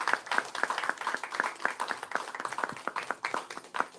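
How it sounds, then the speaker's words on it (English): A small audience at a Pan African Women's Day event gives a round of applause, with distinct individual claps in a brisk, uneven patter, moderately quiet and with no talking over it. "can everybody please give them a round of applause?"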